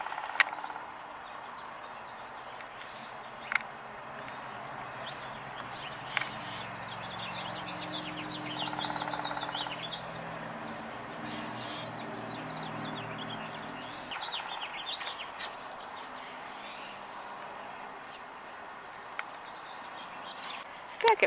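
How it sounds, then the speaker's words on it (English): A Song Sparrow calls outdoors, its short chirps and twittering notes repeating faintly over a soft background hum for about twenty seconds, with a few louder clicks and knocks. "we have Song Sparrow approaching"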